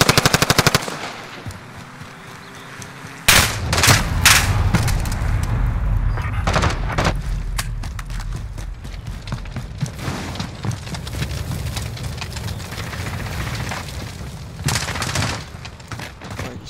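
Bursts of automatic gunfire from Modern Warfare gameplay, loud and close, with dense rapid volleys and a few sharp booms over a constant low rumble across the stretch.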